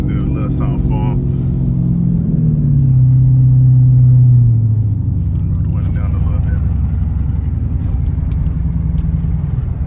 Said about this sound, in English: They can hear this V8.